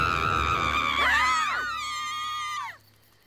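A cartoon girl lets out a long, shrill scream, rising and wavering in pitch before breaking off sharply near the end, loud and close with nothing else behind it.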